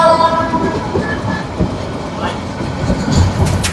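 A train running on rails in Bangladesh, with three carriages behind, mostly goods wagons and one carrying passengers, gives a loud, close rumble with rhythmic clickety-clack and a brief horn-like tone.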